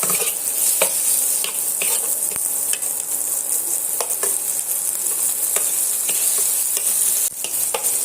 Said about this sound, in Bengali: সমস্ত মশলাটা আদা রসুনের সঙ্গে আমি এইভাবে কিছুক্ষণের জন্য কষিয়ে নেব